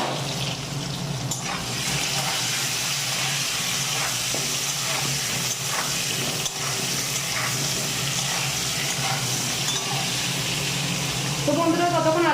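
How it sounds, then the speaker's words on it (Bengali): Potato pieces seasoned with turmeric and salt fry in hot oil, giving a steady, loud, broadband sizzle and hiss that runs unbroken throughout, with a brief voice rising over it near the end. "তো বন্ধুরা, ততক্ষণ আলুটা ভাজা হোক।"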